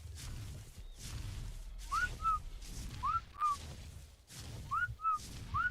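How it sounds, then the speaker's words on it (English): Repeated short two-part whistle calls in ARK: Survival Evolved (modded), rising then level, sounding in pairs about once a second over a low game rumble, with no voices. "See, why don't whistles work for me?"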